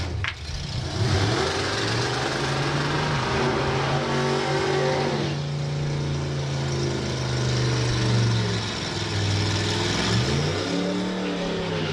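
A Willys drag racing car at Santa Pod makes a run with a loud, close engine roaring at high revs, pitch climbing through gear changes and then dropping away as it slows near the end.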